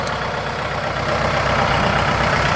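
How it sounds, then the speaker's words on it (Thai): A used Kubota L5018DT tractor with its diesel engine idling, a steady low rumbling chug with a regular pulse, close and loud, continuing alone without talk and rising slightly partway through. "ดูหัวใจดูหัวใจของตัวรถนะครับ ก็คือเครื่องยนต์นะครับ"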